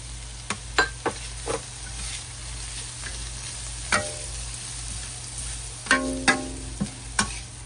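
Minced garlic fries in garlic-infused olive oil for a lobster mushroom and smoked salmon linguine, a low steady sizzle punctuated by sharp clinks and taps of a utensil against the pan at irregular intervals; no speech.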